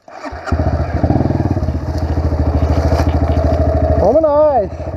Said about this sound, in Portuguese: Vou pegar minha moto.